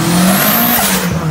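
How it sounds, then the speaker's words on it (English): A McLaren race car at the Knysna hillclimb roars past close by. The engine note is loud and sustained, with a rising and falling pitch as the car sweeps through. "First of the McLarens coming around as well."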